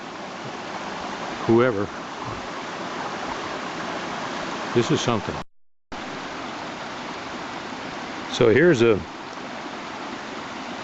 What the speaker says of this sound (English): Salmon Creek right up above Earthquake Creek, shall we call it. And it's still got good flow to it.